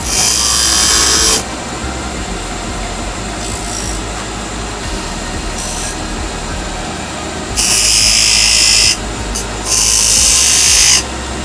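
A wood lathe turning a chess king piece hums steadily while a pointed tool cuts in, producing loud hissing scrapes in several bursts of a second or two.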